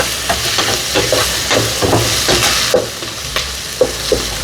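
Onions sauté in a pan for squid curry, a steady loud sizzle with repeated stirring scrapes and clinks throughout, close up and with no voices.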